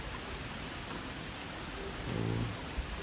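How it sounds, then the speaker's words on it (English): Steady rain falls at a farmhouse, a constant broadband hiss with no talk, and a brief low thump near the end. "So, glad to get this rain."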